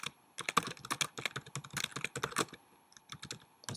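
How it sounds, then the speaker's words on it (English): Fingers type on a computer keyboard, irregular bursts of crisp, close clicks and key taps with brief pauses between runs, no voices. "let's type"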